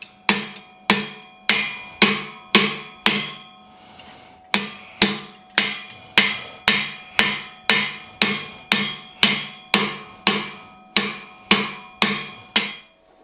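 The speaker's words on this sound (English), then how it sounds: "I'm gonna hammer the other side of this to the same dimension" A steel piece for a 1941 Mercury steering repair being hammered flat with about twenty sharp, ringing metallic blows in a steady rhythm, close and loud, with one brief pause partway through and no talking.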